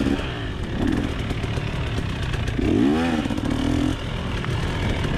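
Dirt bike engine racing along a tight single-track trail at a scramble race, a rising and falling snarl as the rider revs through the throttle, moderately close with clattering underneath.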